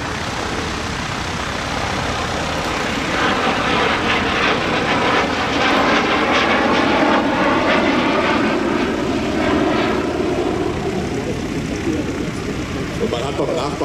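A loud, continuous roar from two small General Electric jet engines on a Messerschmitt 262 replica, steady and close, with a whining texture that swells slightly midway.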